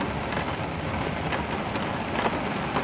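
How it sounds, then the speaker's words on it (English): Rain begins falling on a snowy garden, making a dense, continuous patter with a few brighter drop hits, steady and moderately loud with no talk. "But it has just started raining, so the snow is starting to clear."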